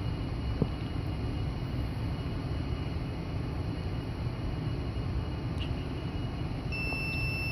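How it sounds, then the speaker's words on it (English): A continuity tester is held to the centre pin of an IPEX antenna connector on a Hubsan H501S controller. Its steady electronic beep tone sets in near the end over a constant background hum. "if it beeps, then you got signal."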